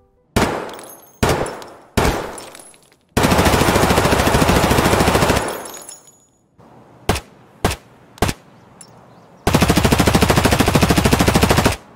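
An MP5 submachine gun fires several short bursts and single shots, then two long sustained automatic strings, loud and close with sharp echoing tails and no talking.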